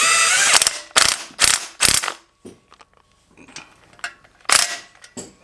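A swivel ratchet zips down header bolts on a car engine in loud, close bursts of rapid clicking, several quick runs separated by short pauses, with softer clicks between them.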